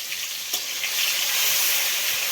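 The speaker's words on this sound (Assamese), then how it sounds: "ইয়াতে গাই সৰু মাছখিনিও ভাজি লৈ আছোঁ" Small fish frying in hot oil in a home kitchen, a steady broadband sizzle that swells slightly toward the end, with a brief spatter near the start and no talking.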